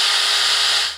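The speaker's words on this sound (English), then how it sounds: "we're gonna start by pre-drilling these 1/8-inch bit" A power drill with a 1/8-inch bit pre-drilling a Trex deck railing, giving a loud, steady, continuous whirring grind that holds for about a second, with no talk.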